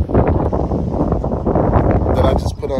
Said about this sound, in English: it's windy. I think it's about to rain.